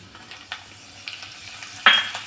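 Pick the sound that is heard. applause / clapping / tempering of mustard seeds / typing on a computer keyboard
tempering of mustard seeds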